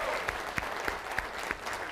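Scattered applause for an audience at a training seminar, a few distinct claps standing out over a soft, steady patter, moderately faint and without voices.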